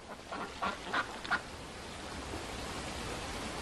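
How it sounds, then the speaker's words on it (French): Mandarin ducks flocking on a lake at Wuyuan, a wintering site, with a few short quacking calls in the first second and a half over steady hiss of wind or water, then only the broad background noise. "Des canards mandarins, oiseaux fastes dans la culture traditionnelle chinoise, s'attroupent à cet instant dans le lac."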